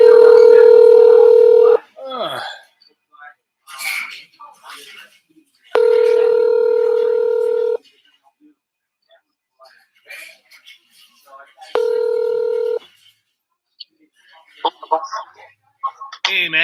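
A telephone line gives a steady dial tone in three separate long bursts, with clicks, brief dialing sounds and speech in the gaps between them as someone places a call.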